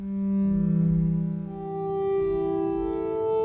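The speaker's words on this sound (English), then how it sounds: "It's just a basic synth in Omnisphere" A basic Omnisphere synth patch plays sustained notes with a warm, bright harmonic tone. The pitch steps slightly and the level swells gently over a few seconds, with no voices.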